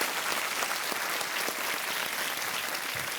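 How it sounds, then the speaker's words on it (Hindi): A studio audience on a television quiz show applauds in a dense, steady burst of clapping that fills the room evenly throughout. "तालियों के साथ इनका अभिनंदन किया जाए।"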